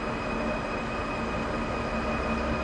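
An ICE1 Class 401 high-speed train running on the Kassel–Würzburg high-speed line in Train Sim World 5, a steady dense rumble with faint tonal whine throughout, no speech.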